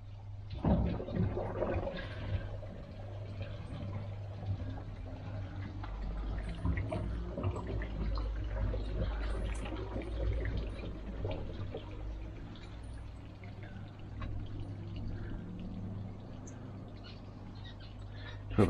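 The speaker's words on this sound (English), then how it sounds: "Now we lower the water level." Water drains from an up-flow filter as its level is lowered, a low, steady gurgling and trickling flow that runs continuously at moderate volume, with a faint hum beneath.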